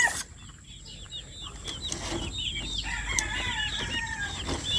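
Growing Mitra Speeder chicks cluck and chirp together in a busy, overlapping chorus of short calls, fairly close, with a few louder rising cries breaking through.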